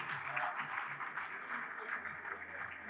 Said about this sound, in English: Can I get the applause?